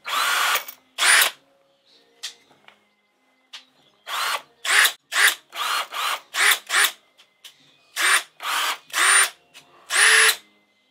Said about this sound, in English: 18 volt hand drill with the clip that you can hang on your tool belt. Fits with all the other batteries that I have, and the sound is different.